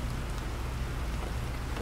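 Steady, dense rainfall in the survival game Planet Crafter, a continuous loud hiss of drops with a low rumble beneath.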